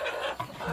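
An older hen clucks close by on a farm where chicks are pecking at bread, a few short soft clucks over a light outdoor background.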